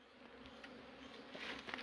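Bees buzzing around a honey hive in a hollow tree trunk, a faint, steady insect hum with some rising passes near the end, heard outdoors at low volume.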